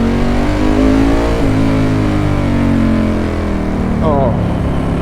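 A 1996 Ducati 916 motorcycle engine runs loud and close, a rich rumbling idle with rising and falling revs throughout, with a voice speaking over it.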